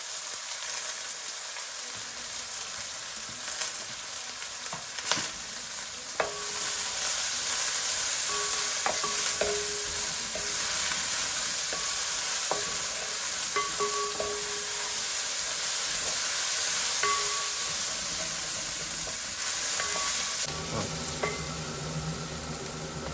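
Onion frying in a pan with steady loud sizzling and hiss, broken by scrapes and clinks as it is stirred throughout, no voices.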